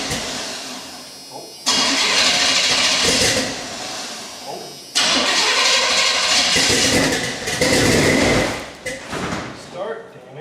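Car engine with a chopped exhaust pipe cranking and trying to start in repeated loud bursts, rough and close, with people talking over it.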